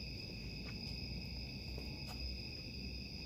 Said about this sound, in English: But we got the cicadas here.